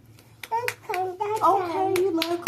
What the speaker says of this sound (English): Okay, you love clapping.